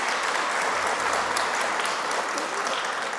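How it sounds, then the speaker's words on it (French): Audience at a carbon-neutrality conference closing session applauding Karine, sustained dense clapping at an even level throughout. "je propose qu'on l'applaudisse"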